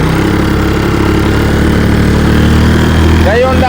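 A Honda outboard engine runs steadily at sea on a fishing boat, a loud continuous drone with background noise throughout.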